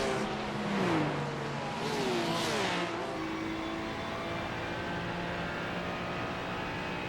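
Racing cars in a racing video game, with a Porsche among the rival cars, roar on track: engine notes rise and fall in quick passes, then settle into a steady, sustained drone with no talk.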